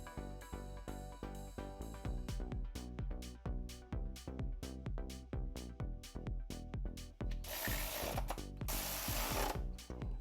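A hand ratchet clicks in quick repeated bursts while an alternator is reinstalled on a BMW E46 engine during a turbo build, the pawl chattering close and loud, ending in a sustained rapid spin.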